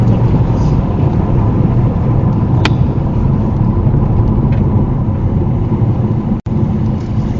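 Volvo V40 D3 diesel car at speed on the Thruxton race track, a loud continuous engine drone with heavy road and wind roar from inside the cabin, nearly unbroken with one brief dropout.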